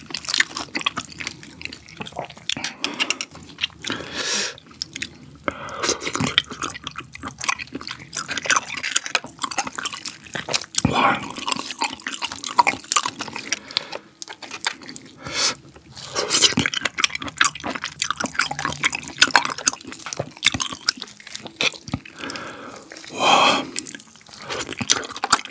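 Spicy steamed scallops and enoki mushrooms in buldak sauce being eaten up close, with soft wet chewing, slurping and utensil clicks running steadily throughout the mukbang.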